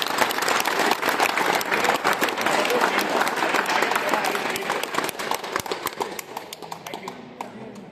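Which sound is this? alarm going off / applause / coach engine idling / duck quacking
applause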